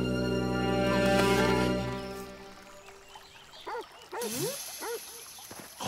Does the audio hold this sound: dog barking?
yes